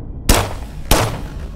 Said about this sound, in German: Ah, ein Schuss. Headshot.